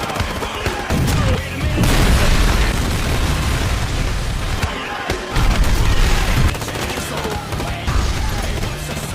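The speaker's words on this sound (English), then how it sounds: "Without thinking, Barney immediately detonated the bomb" Heavy bomb blasts in an action film, loud booming bursts with rumbling debris and crackling fire, swelling and repeating in waves over several seconds.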